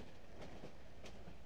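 A train in the video game Cry of Fear rumbles along in a steady, continuous roar with faint rhythmic clacks, a dull enclosed wash of noise and no one talking.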